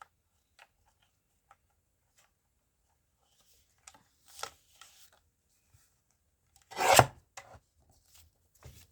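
Paper scraps being trimmed for a concertina notebook, a few faint snips and rustles scattered through near-silence, with one louder close cut or crunch near the seventh second.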